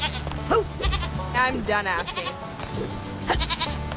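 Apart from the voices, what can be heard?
goat bleating in the video game Psychonauts 2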